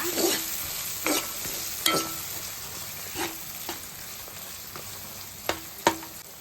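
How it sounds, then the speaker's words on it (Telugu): Grated raw mango fries in oil for mango pulihora with a steady close sizzle, broken by periodic scraping strokes of a stirring spoon against the pan. "ఇలా మామిడికాయ తురుము ఆయిల్లో మగ్గితే కొంచెం మనకి టేస్ట్గా ఉంటుంది."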